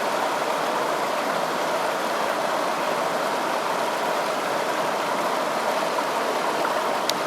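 White water rapids rush on the Farmington River at Satan's Kingdom, a loud, steady broadband roar of churning water that fills the whole stretch without pause.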